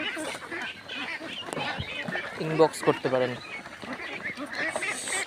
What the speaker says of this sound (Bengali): আপনারা দেখছেন যে হাঁসগুলো